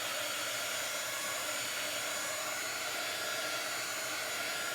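A hair dryer blows steadily on a chalk craft project, a loud, continuous airy whoosh with a faint high whine and no talking.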